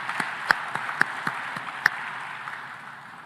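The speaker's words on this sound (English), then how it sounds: "we should give another round of applause to the finalists" Audience applause for finalists at a food security summit in Tanzania, heard as a dense, steady wash of many hands clapping with a few sharper individual claps standing out. It stays moderately loud and fades slightly toward the end.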